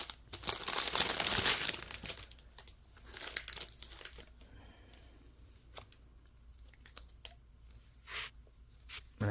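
Plastic floss packaging crinkles loudly up close at first, then quieter rustling and small crackles follow in intermittent bursts.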